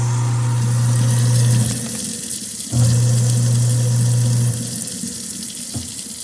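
Water runs steadily from a kitchen faucet into a sink fitted with a garbage disposal, a loud rushing stream that briefly breaks off twice before resuming.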